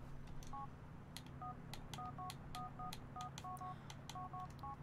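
A run of short, even touch-tone beeps dials out on a mobile phone in Grand Theft Auto IV, quiet beneath a steady hum of background noise, with faint clicks scattered among the tones.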